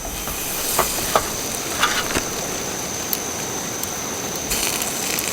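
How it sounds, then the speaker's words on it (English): Margarine melting in a frying pan over a low flame on a camping stove, cooking wild trout outdoors: a steady soft sizzling hiss with a few faint clicks and pops, close and continuous, with no voices. "It's not until you put the margarine in the frying pan and it starts melting"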